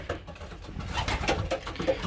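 Pigeons murmur soft, low coos close by indoors in a loft, overlapping in a gentle, uneven burble with light rustling.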